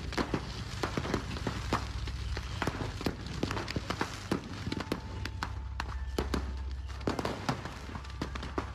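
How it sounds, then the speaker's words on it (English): Dense, continuous crackling and popping of fireworks exploding inside a burning fireworks store, many sharp bangs in rapid irregular succession over a low roaring rumble, a few faint whistles mixed in. "soon enough the whole building became a giant eruption of fireworks"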